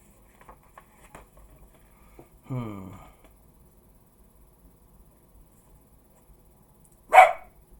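A single dog barks once at moderate distance, a short harmonic woof, followed moments later by a sharp high yelp or noise burst in an otherwise quiet room.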